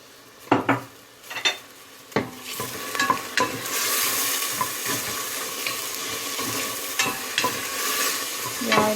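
Meat that has released its juices sizzles in freshly added oil in a pan for a chickpea stew, with a few utensil clanks and stirring scrapes at first, then a steady, close frying hiss.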